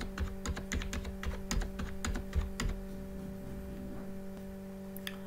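Numbers being typed into an Excel spreadsheet on a computer keyboard: a quick run of crisp key clicks that slows to a few scattered taps, close up over a low steady hum.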